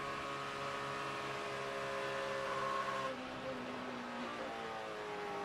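NASCAR truck engine drones loud and steady, then its pitch drops and tone softens partway through as the driver lifts off the throttle on track.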